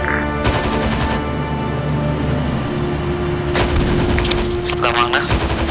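Gunfire in the military shooter Arma 3: several sharp, loud bursts of shots, an early cluster followed by separate reports later on, over steady battlefield noise with faint radio chatter.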